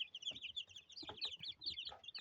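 A cluster of young chickens cheeping continuously in high, overlapping chirps, with a few soft clucks beneath, close to the listener.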